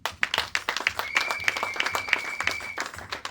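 A church congregation claps and acclaims the Lord, with rapid overlapping hand claps and scattered cheers forming a lively, continuous burst of applause that fades near the end.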